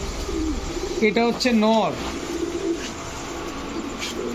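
Afshan grizzle racer pigeons coo in a short burst of rolling, throaty calls, close and clear over a noisy background, while someone speaks briefly.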